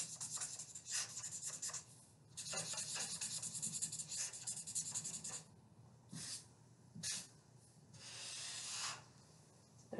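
A pen draws cartoon eyes on paper, its tip scratching and rubbing in close, quiet strokes that start and stop in short bursts with brief pauses between them.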